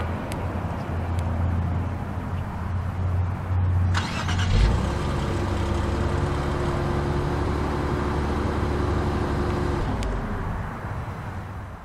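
A 2018 Infiniti Q50 3.0T Red Sport is started remotely: the engine cranks and catches partway through, then settles into a steady, close idle hum over a low background rumble.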